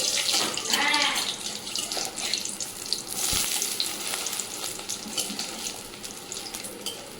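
Fish-egg fritters fry in a pan with a close, hissing sizzle that rises and fades, mixed with running-water and splashing sounds, and a sharp knock partway through.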